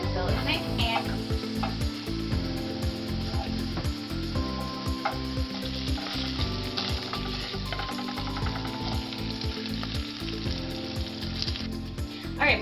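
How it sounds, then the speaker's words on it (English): Bacon frying in a pan while a spatula pushes it around: a constant close sizzle with repeated scraping strokes across the pan, steady and busy throughout. "Take my spatula. Just move that around the pan until it's nice and cooked."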